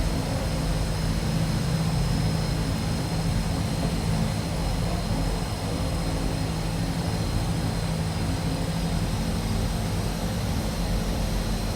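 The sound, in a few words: Twin Otter seaplane engine taxiing on water, flight simulator game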